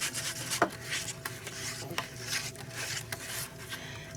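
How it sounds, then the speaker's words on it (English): A whisk scrapes and clinks steadily against a bowl, blending ground cinnamon into a bread pudding mixture with rhythmic metallic strokes. "And now I'm going to whisk all this up."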